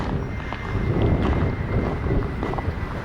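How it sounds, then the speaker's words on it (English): Wind blows across a microphone outdoors near a house, a loud, steady low rumble and buffeting with gusty swells and no voices. "the minute I walk around here from our house, you can hear that wind"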